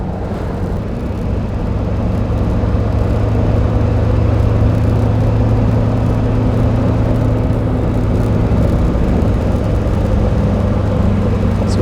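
A 1950 Mercedes 170 S Cabriolet A, restored, driving on a spring road: a steady, loud low engine drone and rolling hum that holds evenly throughout with no voices.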